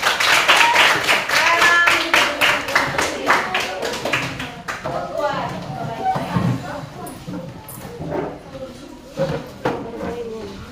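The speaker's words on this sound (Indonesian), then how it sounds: "tepuk tangan untuk kelompok 2." Classroom applause for a student discussion group, a burst of many hands clapping loudly together that thins into scattered, uneven claps and taps with talk mixed in.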